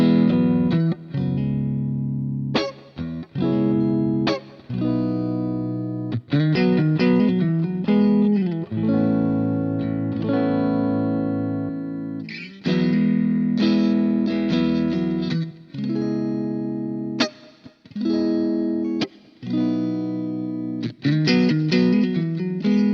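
Electric guitar through a Boss GX-100 clean patch, switching between a mid-scooped amp and a mid-forward amp, played as strummed chords and picked phrases in bursts with brief gaps, loud and close with no talking.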